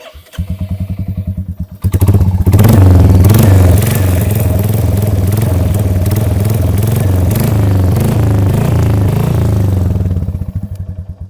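Royal Enfield Hunter 350 motorcycle with about 25,000 km and a minor tappet noise starts up and settles into a loud, close, steady idle, its rhythmic single-cylinder thump carrying a light ticking clatter until it cuts off.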